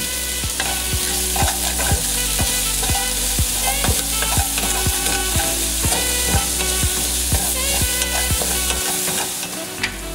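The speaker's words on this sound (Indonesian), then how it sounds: "kita tumis bawang merah dan juga bawang putihnya hingga harum" A steady sizzle of shallots and garlic frying in a hot wok, with a regular scraping rhythm of a spatula stirring throughout.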